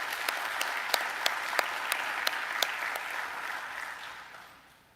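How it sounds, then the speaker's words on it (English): Audience applause at a benefit gala, moderately quiet and steady with a few sharper individual claps standing out, fading away toward the end. "So please join me in a round of applause for MSAA."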